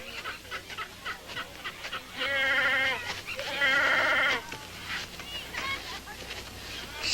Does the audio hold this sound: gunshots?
no